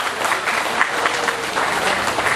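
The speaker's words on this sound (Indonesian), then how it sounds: "Tepuk tangan yang meriah" Lively audience applause at a Balinese cultural gathering as the first speaker is welcomed: thick, continuous clapping from a crowd, loud and close, with no talk over it.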